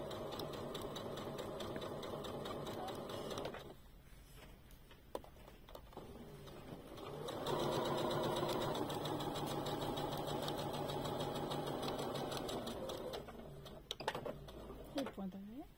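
A sewing machine runs a straight stitch along a reversible bag in a fabric shop, with a steady close mechanical whir that pauses briefly partway, then resumes a little louder. Voices talk over it at times.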